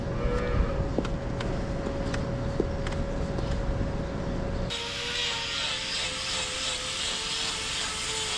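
Cattle lowing inside a barn while cows are sorted and brought through for hoof checks, with low moos over steady background noise that turns into a loud, broad hiss partway through.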